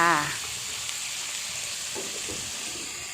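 Pork belly stir-fries in a pan as seasoning sauce goes in, a steady sizzle after a brief splash, with faint scraping of stirring.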